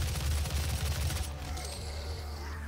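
A rocket weapon fires in DOOM 2016, a rapid burst of heavy booming blasts followed by a ringing, fading tail.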